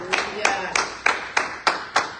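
Applause in a church, made of seven sharp, evenly spaced bursts of clapping in a steady rhythm, like a small group clapping together in a room.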